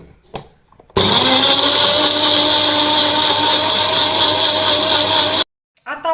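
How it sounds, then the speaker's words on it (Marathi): A kitchen mixer grinder blends chunks of watermelon into juice with a loud, steady, high-pitched whirring whine that runs for about four seconds. Brief faint sounds come just before it starts, and it stops abruptly. "उर्वरित कलिंगड आपण मिक्सर मधून फिरवून घेऊया"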